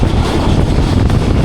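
Rehman Baba Express rolls through a railway station at speed, heard from on board as a loud, steady rumble of wheels on track with faint rhythmic clatter throughout.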